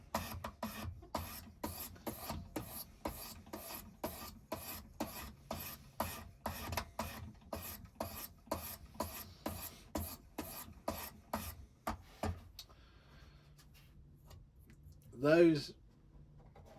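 A stainless steel knife is drawn across a 600 grit stone in a steady series of rasping strokes, roughly two per second, then the strokes stop and a short scrape follows near the end.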